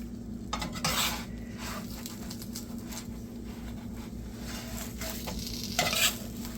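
Chicken quesadilla crisping in a buttered pan while being flipped, a low steady sizzle under clinks and scrapes of a spatula against the pan, with bursts of handling noise near the start and end.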